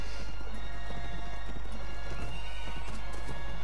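A horse gallops with rapid, continuous hoofbeats and neighs in the Mount and Blade Warband video game, loud and constant, layered over a low steady game rumble.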